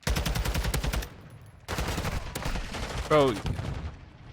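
Rapid automatic gunfire bursts from a video game shooter, loud and repeated in two stretches, with a brief game sound effect near the end and a person talking over the action.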